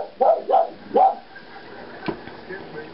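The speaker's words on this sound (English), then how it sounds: "But I wanted to get some barking." A dog gives three quick barks close by, then falls quiet with faint background noise and a single sharp knock.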